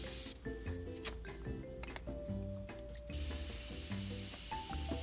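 Airbrush spraying thinned Mission Models acrylic paint, a soft hiss that turns into a steady, stronger spray in the second half, with faint tonal sounds in the background.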